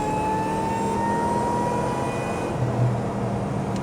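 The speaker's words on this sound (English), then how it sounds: "Hear the supercharger?" Supercharger whine from a 1998 Ford Crown Victoria P71 Kenny Brown Panther, a thin steady high-pitched tone riding over a continuous engine and road roar, with no voices.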